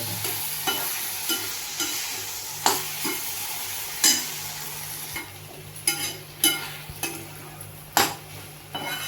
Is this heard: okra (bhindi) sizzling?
yes